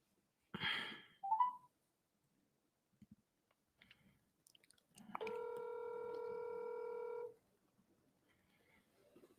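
Telephone dialing tones: a few brief clicks and blips, then one steady multi-tone beep lasting about two seconds, heard alone in a quiet room.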